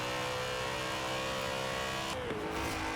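A BMW M3 GTR with 444 horsepower on sports tires in Forza Horizon 4, its engine holding a loud, steady high-revving drone before a sudden shift in pitch near the end, with no talk.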